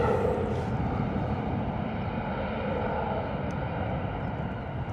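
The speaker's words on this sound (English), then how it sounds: "Power set, looks like an A320 lined up on taxiway Zulu 4. 320 rolling to Almeria, here we go." An EasyJet Airbus A320 on its take-off roll at Bristol Airport gives off a loud, steady jet engine roar that holds at full power throughout, heard from a distance with no voices.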